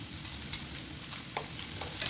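Onions sautéing in a pan for tomato pachadi give a steady, soft sizzle close by, with a few faint stir clicks and no voices.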